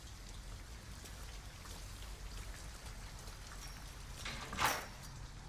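Rain falling in the video game Detroit: Become Human, a soft, steady patter of drops with a brief louder splash near the end and no talk.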